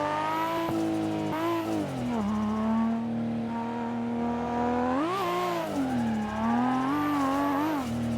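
A car engine in the Assetto Corsa video game revving and holding steady, its pitch rising and falling as the throttle is worked during a clutch-kick drift, loud and continuous.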